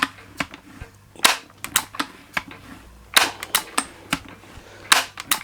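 Repeated sharp clicks and clacks from pumping a Daisy Powerline 922 multi-stroke pneumatic air rifle, coming in irregular bursts of close, crisp mechanical snaps.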